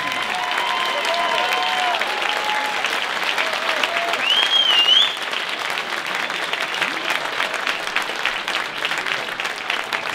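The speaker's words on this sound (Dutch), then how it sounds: "geef u al deze geweldige muzikanten een echt Noordwijk applaus" Sustained crowd applause for musicians at the Noordwijk tattoo finale, broad and steady clapping with a few whistles and faint voices early on, swelling briefly before settling.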